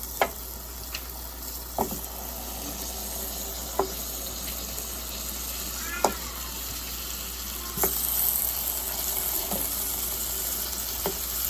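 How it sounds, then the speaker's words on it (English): Scallops searing in melted butter in a pan, a steady soft sizzle with occasional sharp clicks and taps from utensils, growing a little louder toward the end, close and without talk. "I'm just gonna sear them just like that in the butter once it melts"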